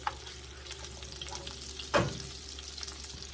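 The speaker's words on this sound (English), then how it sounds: "I got me a stick of butter melting in here, one whole stick of butter" A whole stick of butter melts in a skillet with a soft, steady sizzle and bubbling, topped by one brief louder scrape or clatter partway through.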